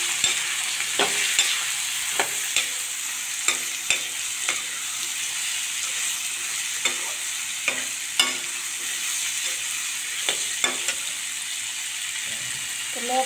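Bottle gourd goes into sizzling masala and is stirred, with a constant frying hiss punctuated by regular sharp clicks and scrapes of a spoon on the pan, close and without speech.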